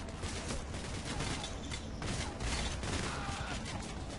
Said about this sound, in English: Why is he still shooting?